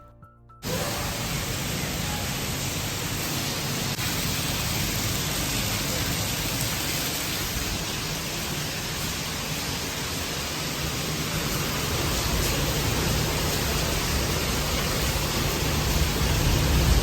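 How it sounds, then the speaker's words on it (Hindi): Steady, heavy rain pours without a break, a dense broadband hiss that swells slightly louder toward the end, with no voices. "बाहर मैंने आप लोगों को आवाज़ सुनाई कि कितनी तेज़ बारिश हो रही है।"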